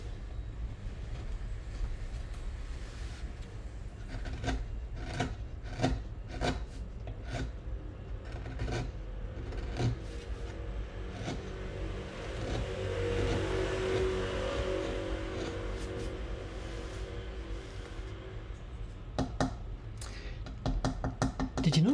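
A carving tool cuts and scrapes into an inlaid Japanese woodblock printmaking board that resonates like a sounding board, giving repeated sharp taps and rasping strokes with a hollow, echoing ring, close and fairly quiet over a low background rumble.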